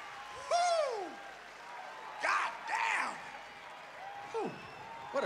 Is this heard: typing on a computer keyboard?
no